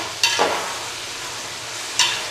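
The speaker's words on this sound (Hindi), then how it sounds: "1 से 2 मिनट जो है कद्दू की भुनाई करूँगा मैं इसी ऑयल में" Pumpkin pieces stir-fried in oil with cumin, giving a steady soft sizzle with a few brief scraping stirs near the start and end, no talking.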